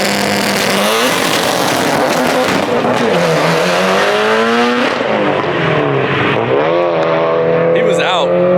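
A Mitsubishi Evo 5 with a new motor launches hard down a drag strip, its engine screaming loudly up through rapid gear changes with rising and dropping pitch, then fading as it pulls away while people talk.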